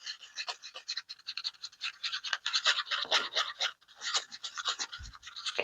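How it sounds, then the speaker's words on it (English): Rapid, uneven scratchy strokes of a tool scraping mica powder off the inner side of a cup while mixing it for marbling, close and dry, in short bursts with brief pauses. "And you can see how that mica powder is stuck on the side of the cup. So I'm just scraping it off."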